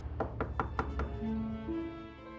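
Five firm knocks land on a door in a quick, even rhythm, close and clear, followed by a low sustained tone in a TV drama scene.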